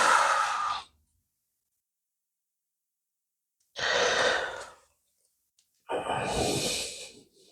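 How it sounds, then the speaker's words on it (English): Slow exhalations during a yoga class, three breathy sighs separated by silence, the last two longer and fuller, heard close and alone. "and breathe out."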